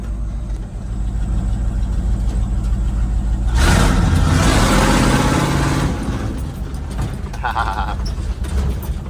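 A Squarebody truck's engine idles low and steady while rolling along, with a swelling roar and rattling cab noise mid-way, and someone talks over the rumble.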